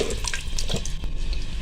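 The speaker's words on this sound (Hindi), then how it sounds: "इसमें हम 1 गिलास पानी शामिल करेंगे" A glass of water poured into a pot of karela gosht (bitter gourd and meat curry), a steady splashing pour close by and fairly loud, with no talk over it.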